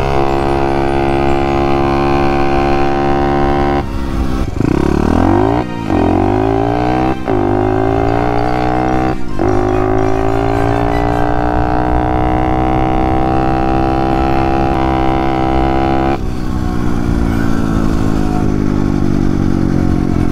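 A 110cc small bike engine fitted with an upgraded carburetor runs loud and close, its buzzing drone rising and falling as the throttle is blipped several times, then settling to a steady high idle.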